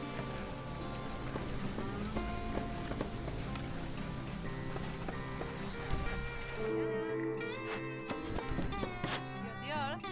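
Drizzle falls in the video game Against the Storm as a continuous soft patter, layered with game music and small tonal effects, at a low steady level with no talking.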